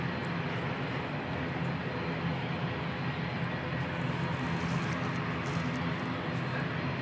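An airliner departing Christchurch Airport for Rotorua, in wet conditions, makes a steady, broad engine roar heard from a distance that holds evenly throughout without fading, with no voices.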